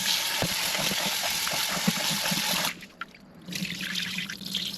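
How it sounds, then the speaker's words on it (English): Running tap water pours into a pot of rice being washed by hand for Jamaican rice and peas, a steady trickle with faint clinks, then a short pause before the water flow resumes more softly. "I wash my rice 3 times. I'll repeat the process."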